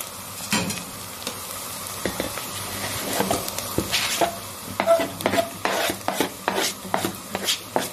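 Chopped fresh green garlic fries with softened onions in a hot pan, giving a steady sizzle broken by repeated scraping strokes of a stirring spoon that grow busier and more rhythmic toward the end.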